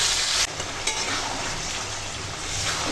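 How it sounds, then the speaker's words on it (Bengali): Chicken pieces in a yogurt marinade sizzle and fry steadily in a pan while being stirred, with a continuous loud hiss, a couple of brief scraping stir strokes and no talking. "তো এখন মাংসটা সুন্দর করে কষাবো।"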